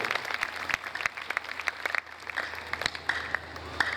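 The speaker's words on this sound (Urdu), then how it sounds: "پورے زور کے ساتھ زوردار تالی جائے گی آپ سب کو" A congregation applauds inside St Francis Xavier Catholic Church in Sargodha: scattered, moderately loud claps with distinct individual hits under a soft room wash, heard alone without speech.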